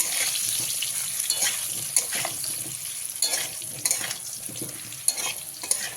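Potatoes frying with a pinch of asafoetida in a pan, a steady close sizzle broken by repeated scraping stirs of a spoon, with no voices.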